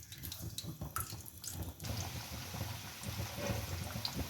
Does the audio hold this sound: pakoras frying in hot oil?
yes